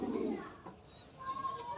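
A Teddy pigeon gives a soft, low cooing burst at the start, close and faint, with a voice speaking in the background.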